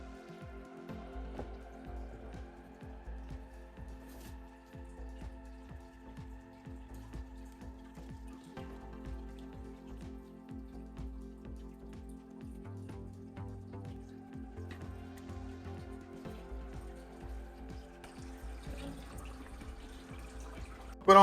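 An aquarium filter pump runs on a 180-litre freshwater tank, giving a faint steady hum with soft trickling and irregular drips of water falling into the tank throughout.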